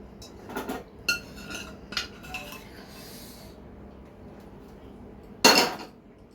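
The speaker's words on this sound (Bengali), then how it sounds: "দেখো একটু চামচের পেছনটা দিয়ে আমি একটু নাড়িয়ে দিই" A spoon stirs jelly cake mixture in a bowl, giving a few soft scraping clinks and one louder knock near the end, with otherwise quiet surroundings.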